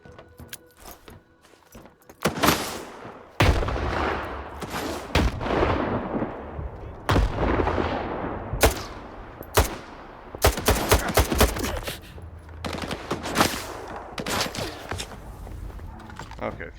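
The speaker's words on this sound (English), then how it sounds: "I'm going to try to throw grenades over there" Grenade blasts and bursts of gunfire fill a fight with bandits in the Stalker 2 video game, heavy and loud, with repeated explosions and rapid shots piling up over several seconds.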